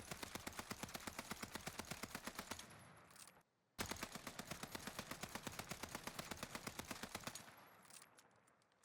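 A rifle fitted with a hatch grip fires in Warzone: two long, rapid automatic bursts of evenly spaced sharp shots, loud and close, separated by a brief pause.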